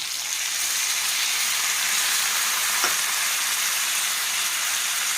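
Drumstick and tomato pieces fry in a pan with a strong, constant hiss of hot oil and one brief scrape from a spoon, close up and without talking.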